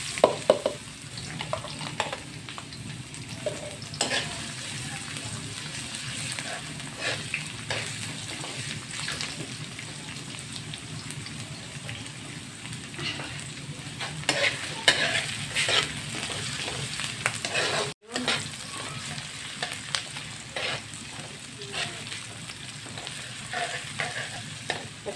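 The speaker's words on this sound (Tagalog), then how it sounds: "mag-gisa na tayo ha" Garlic, onion and ginger sizzle steadily in a hot pan while being stirred, a close, continuous frying hiss with scraping stir strokes and no talking.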